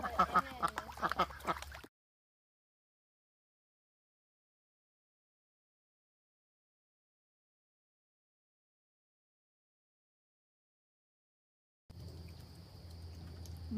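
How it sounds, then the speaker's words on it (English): Ducks quack in a noisy burst after being given fresh water, then a long stretch of silence, then more quacking with a steady high tone in the background. "I just wanted you all to see how crazy the ducks get when we give them fresh water."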